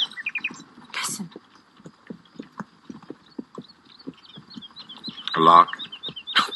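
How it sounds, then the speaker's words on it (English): A nightingale sings in short chirping phrases over the steady clip-clop of horse hooves, part of a film scene where a person also speaks. "It was a nightingale."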